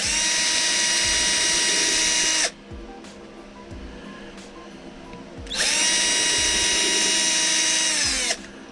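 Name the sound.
power drill drilling through walnut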